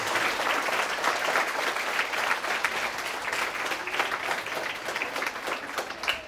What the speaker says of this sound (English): let us give our infant students a round of applause